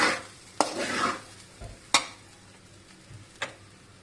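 Rice with chicken sausage and peas stirred in a pan over a low flame, soft sizzling under several distinct scrapes and clinks of a spoon against the pan, close by and fairly quiet, no voices.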